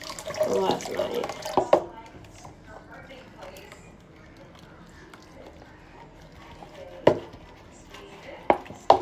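Dishes are washed under a running tap, with water splashing into the sink and the clatter and knocks of plates, loud at the start and again near the end, while speech is faint in the background.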